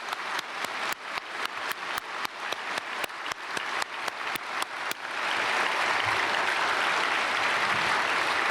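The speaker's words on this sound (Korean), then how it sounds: "박수하겠습니다" Church congregation at a Sunday worship service breaks into applause, opening with a steady, evenly spaced run of loud unison claps for about five seconds before dissolving into a dense, continuous wash of scattered clapping that fills the hall.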